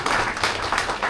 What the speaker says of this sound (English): Special applause for you.